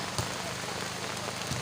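Heavy rain pouring down during an outdoor match, a dense, steady hiss of drops on surfaces that runs unbroken throughout, with faint thuds now and then.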